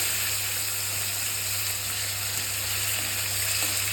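Banana slices frying in hot oil in a wok give a steady, even sizzle with a low constant hum underneath, continuous and close, with no talking.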